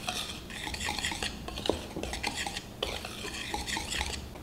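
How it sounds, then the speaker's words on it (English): Dry ingredients are mixed in a small bowl with a mini whisk, giving quick, close, repeated scraping and clinking strokes against the bowl that continue steadily without pause. "The mini whisk makes an appearance."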